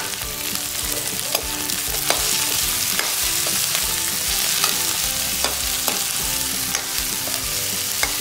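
Chopped onions and capsicum fry loudly in a pan for mushroom chilli over high flame, a dense, continuous sizzle punctuated by regular scraping clicks as a spoon stirs them, close up and without voices.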